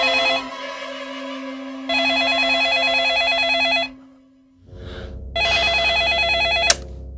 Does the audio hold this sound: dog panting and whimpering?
no